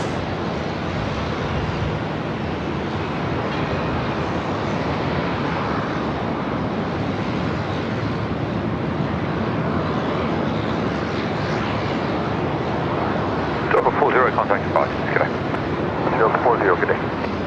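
A Boeing KC-135 military tanker takes off at Sydney Airport, a broad, sustained jet roar mixed with wind buffeting the microphone, while a voice briefly speaks near the end.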